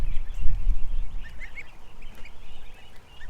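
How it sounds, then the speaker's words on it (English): Geese or similar fowl honk and call from very close by, several overlapping calls scattered across a few seconds over a low rumble of handling and wind noise, with no speech. "I'm this close to the birds."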